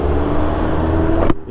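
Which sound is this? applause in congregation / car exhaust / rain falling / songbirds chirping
car exhaust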